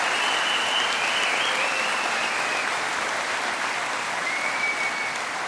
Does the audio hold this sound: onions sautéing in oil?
no